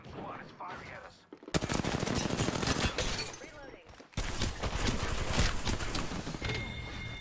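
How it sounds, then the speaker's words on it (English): Enemy squad gunfire in Apex Legends, rapid loud bursts of automatic fire running nearly continuously with a brief break partway, dense and close. "A second squad is firing at us."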